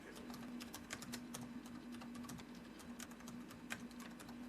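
A computer keyboard clatters with rapid, irregular key presses as text is typed into a Microsoft Excel cell, close and continuous over a low steady hum, with no one speaking.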